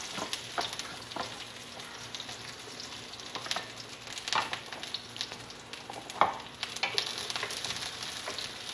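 Shallots and garlic fry in hot oil in a wok, making a soft, steady sizzle with intermittent scrapes and taps from stirring, one louder clack near the middle. The sound is fairly quiet and there is no speech.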